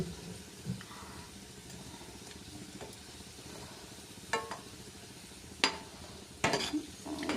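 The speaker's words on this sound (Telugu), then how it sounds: "రెండోసారి కూడా ఇలా ఫ్రై చేసుకోవాలండి" Food frying in a pan, a faint low sizzle under occasional sharp clinks and scrapes of a utensil against the pan, a few louder stirring knocks near the end.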